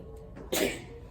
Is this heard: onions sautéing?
no